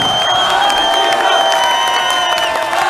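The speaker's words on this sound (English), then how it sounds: "A round of applause for Argentina!" Loud, dense crowd cheering and applauding continuously at a Counter-Strike: Global Offensive LAN final, Denmark versus Argentina at TWC 2016, with whoops rising over steady clapping.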